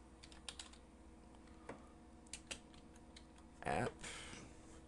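Sparse keystrokes on a computer keyboard tap out a short command, quiet isolated clicks with gaps between them, ending in a brief louder clatter.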